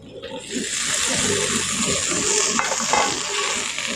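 Boiled onion flower stalks frying with onion and garlic in a pan, making a loud, continuous close sizzle with stirring scrapes mixed in.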